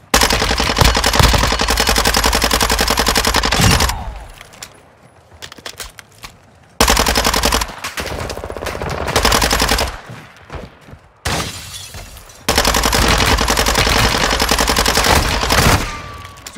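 Bursts of automatic gunfire in the Call of Duty Warzone DMZ video game, loud sustained volleys broken by short quieter gaps, with no one speaking.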